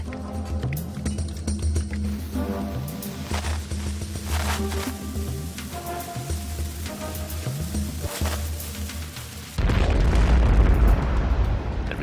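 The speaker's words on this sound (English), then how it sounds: "The resulting explosion signaled a furious 6-hour Ottoman assault." Mines dug beneath a fort's foundations during an Ottoman siege detonate as a loud, deep rumbling blast that swells suddenly near the end and sustains for a couple of seconds after a stretch of music.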